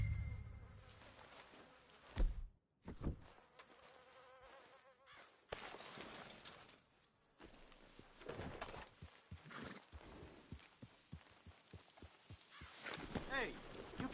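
Horse hooves clip-clop in Red Dead Redemption 2 at a bottle-shooting range in a Western game setting, a steady run of hoof knocks under insect buzz and game ambience, with a voice talking partway through.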